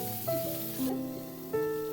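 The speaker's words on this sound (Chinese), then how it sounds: "再加一点点油，把蟹壳也煎一下。" Crab shells fry in a little oil in a pan, giving a soft, steady sizzle heard close and on its own for a couple of seconds.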